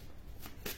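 A deck of tarot cards riffles briefly, two quick soft shuffling rustles close by in a quiet room.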